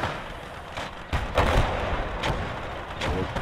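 Rocket artillery salvos in the World War II game Gates of Hell: Ostfront, a run of heavy booming launches and blasts. A loud burst lands near the middle, and further whooshing thumps follow at a steady rhythm.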